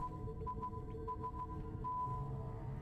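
Morse code audio: faint, short beeping tones in irregular on-off groups, heard quietly over a constant low hum with no speech.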